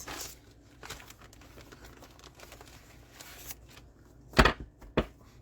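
A large Ziploc bag of stencils being handled close up, with soft plastic crinkles and rustles, quiet at first, then a couple of sharper, louder crackles near the end.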